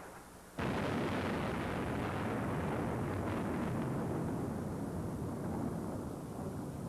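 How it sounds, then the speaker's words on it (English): A deep, booming blast from bombing in Iraq in 2003 erupts suddenly and rolls on as a long, heavy roar that slowly fades. "Another huge explosion in the just northwest of us."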